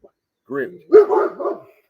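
Dogs barking nearby in the morning, a few short loud barks and yips in quick succession against otherwise quiet surroundings.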